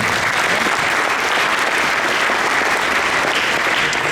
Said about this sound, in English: Let's give Tim a round of applause for being our moderator.